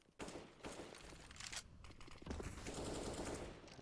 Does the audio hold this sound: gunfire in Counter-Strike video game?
yes